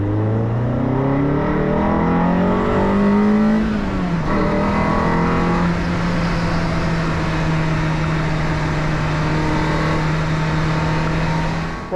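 Car driving along a road with the engine rising in pitch under acceleration, dropping at a gear change, then holding a steady drone at cruising speed, close and loud throughout.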